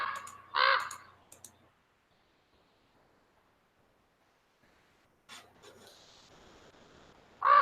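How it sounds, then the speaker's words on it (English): A raven caws a few times in short harsh bursts, fairly close, with a long quiet stretch between calls and faint rustling before a final caw. "That is our Raven from Castle Black."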